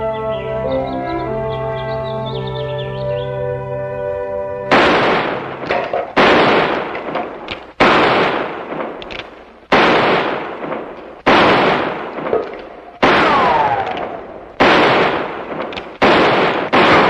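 Target shooting practice in a classic western setting: after a few seconds of sustained musical tones, about eight sharp, loud gunshots crack out one by one at irregular intervals of one to two seconds, each with a short echoing decay.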